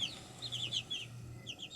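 Chickens in a coop clucking and peeping softly, several short high chirpy calls in quick bursts over a low background hum, fairly faint and close.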